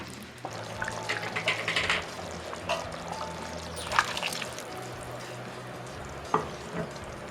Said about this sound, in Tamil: 1 கிளாஸ் கூட ஊற்றிக்குவேன்.